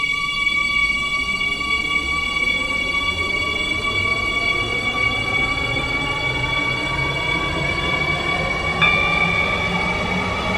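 A metro train in the game SCR runs steadily, a continuous rumble with long high wheel squeal and whining motor tones rising across the ride, loud and close, with no talking.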